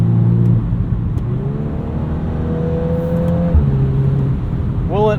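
A 2022 Volkswagen Golf R with a DSG gearbox pulls hard under throttle, its engine note climbing steadily through the rev range from inside the cabin, dropping for a gear change, then rising sharply again at the end.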